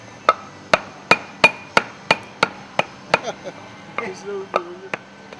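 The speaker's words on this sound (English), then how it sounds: "Use a hammer and a piece of wood to hammer the piston into place in the air cylinder." A hammer strikes a wood block to drive a piston into an air cylinder during an exhaust valve overhaul, about a dozen sharp, evenly spaced knocks, close and loud, with a brief scrape near the end.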